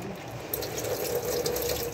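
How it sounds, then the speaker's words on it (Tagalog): Collected water pours steadily out of a refillable charcoal dehumidifier box, a continuous close splashing trickle lasting about two seconds, with no talk. "Tapos, buhos mo yung tubig niya."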